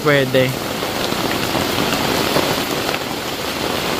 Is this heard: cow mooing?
no